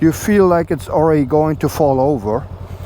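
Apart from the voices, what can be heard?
No distinct noise like a dog, phone or traffic.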